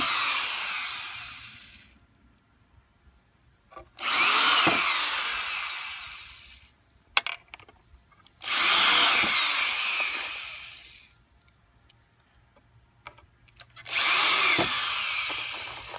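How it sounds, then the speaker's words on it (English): A power drill drives 1 1/4 inch drywall screws into pallet wood pieces in three loud bursts of a few seconds each, separated by quiet pauses with faint handling noises. "I'm using these 1 1/4 drywall screws just because it's pretty much the perfect fit when you're using these plywood, these pallet wood pieces."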